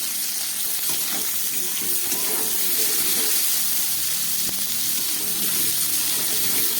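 Peas tipped into a pan of frying cauliflower and potato for a vegetable paneer dish, with a steady, close oil sizzle and hiss that runs throughout alongside faint stirring clatter.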